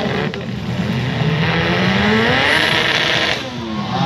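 Turbocharged drag racing car at a Sabah drag battle event, its engine roaring loud and close without a break, with pitch sweeping up and down as it is revved and a turbo whine running over the top.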